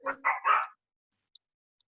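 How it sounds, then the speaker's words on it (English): Dog barking in the background of an online video meeting: three quick, close barks in a row, then silence with a couple of faint clicks. "there is a dog in the area"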